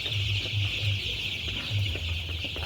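In a rural poultry shed holding 12-day-old chicks, chickens cluck in repeated low bursts close by. A steady, high-pitched chorus continues throughout, and no one talks.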